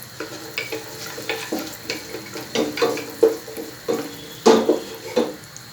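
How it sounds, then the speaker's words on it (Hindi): Dry nuts roast in hot butter in a pan, a close sizzle broken by rhythmic stirring strokes and rattling scrapes that come in repeated bursts. "इसके अंदर मैं ये ड्राई नट्स ऐड कर रहा हूँ, इनको थोड़ा सा भून लेंगे।"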